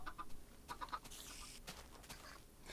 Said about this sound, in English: Come look at all the chickens.